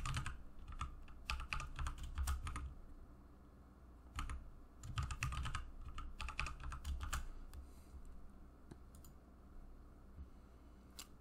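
Fingers type a password on a computer keyboard during a Kali Linux install, in two quick bursts of dense clicking keystrokes with a short pause between them, then a few scattered taps fading out.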